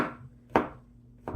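A knife chops pineapple into small pieces for homemade jam, giving two or three sharp, distinct cuts against a board, close and crisp with short pauses between strokes and no talking.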